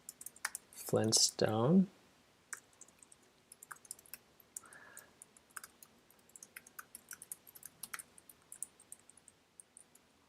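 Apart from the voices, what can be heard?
typing on a computer keyboard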